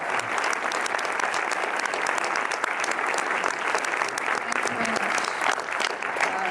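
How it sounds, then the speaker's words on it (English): A cinema audience applauds film directors arriving for a question-and-answer screening, steady dense clapping at an even level throughout with a faint voice beneath. "Merci, ils sont déjà là, de les applaudir."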